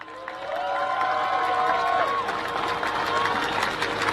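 Crowd applause and cheers welcoming three friends at a gathering outside the German embassy, a broad steady wash of clapping that swells and holds for several seconds, with a few voices calling out over it.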